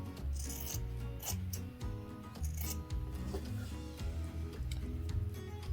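Scissors trim a fabric strap on a sewing project for a bear dress, a close, quiet run of rubbing snips and crisp ticking cuts over faint background music.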